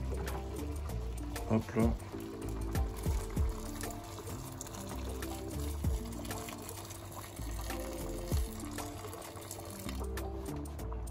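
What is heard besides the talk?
water being poured into cooking pot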